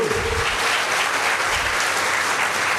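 A large audience claps together at a Women's Day debate event in Dharapuram, a dense, steady burst of applause filling the hall with no speech over it.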